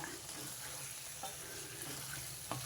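Bitter gourd pieces fry with masala in a pan, a quiet, steady sizzle with a few soft stirring knocks and a small clink near the end.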